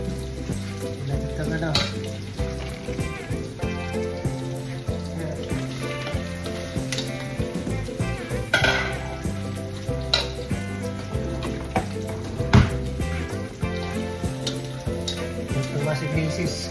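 Vegetables including carrots and potato frying for pansit canton, a continuous close sizzle with occasional stirring scrapes and clinks, under background music with a rhythmic beat.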